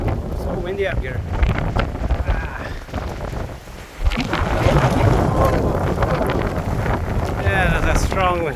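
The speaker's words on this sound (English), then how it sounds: "So windy up here." Heavy wind high on a mountain cliff face in southern Japan batters the microphone with deep, continuous rumbling gusts that briefly ease then surge back, a voice faintly audible underneath.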